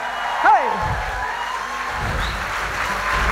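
A folk festival crowd claps steadily for a double bass player being introduced, with a brief cheer rising over the applause near the start.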